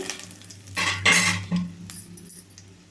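Dried red chillies fry in a pan over low heat. A soft sizzle is broken by a couple of loud spoon scrapes and stirs against the metal, then fades back to a quiet crackle.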